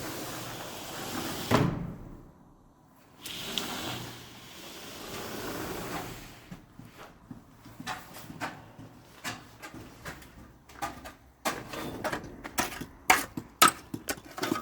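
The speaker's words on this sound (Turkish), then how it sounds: "Kayarlı kapı arkadaşlar." A sliding door on a building under construction is pushed open and shut several times, giving rolling rumbles, knocks and clattering bangs that grow busier and sharper toward the end, close by and without talk.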